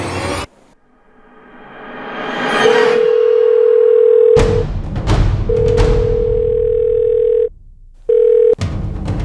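A loud steady telephone dial tone hums, broken by a few clicks and short gaps, with no voices.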